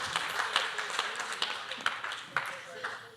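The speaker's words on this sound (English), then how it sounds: "Let's give a round of applause." Wedding guests applaud in a scattered burst of handclaps at an Oceancliff reception, with murmured talk running underneath throughout.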